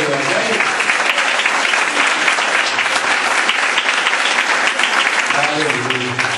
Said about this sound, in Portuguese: As palmas glorificam o nome do Senhor.